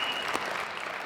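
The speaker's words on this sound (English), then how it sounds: "You can applaud with that as well," Brief burst of audience applause at a public conversation event, dense clapping heard alone and fairly close.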